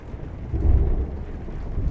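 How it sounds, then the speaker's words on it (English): Steady rain with a low rumble of thunder swelling in the middle, continuous and moderately close, no voices. "It's still raining."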